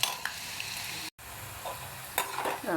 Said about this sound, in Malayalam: വെളുത്തുള്ളി നല്ല മൂക്ക പൊരിച്ചെടുക്കണം.